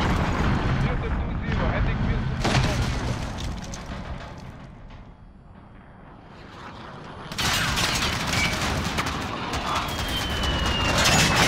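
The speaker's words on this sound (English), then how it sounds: "Allied cruise missile launch." Allied cruise missile strike in Call of Duty: Modern Warfare, a loud, dense roar of explosions and rumbling that fades briefly and then surges back with a heavy, sustained blast.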